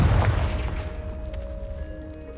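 Confringo blasting spell from the Hogwarts Legacy video game, a single loud booming blast at the start that decays into a lingering rumble with faint tonal game ambience.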